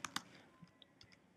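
Typing on a computer keyboard: a few sharp, close key clicks followed by lighter scattered taps, quiet overall and without voices.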